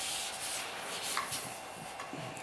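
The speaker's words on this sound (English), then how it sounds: "This has been sanded with 400 wet dry sandpaper going this way" Wet sanding a guitar body with 400 grit wet/dry sandpaper, a steady close rubbing hiss with slight back-and-forth strokes, alone and fairly soft.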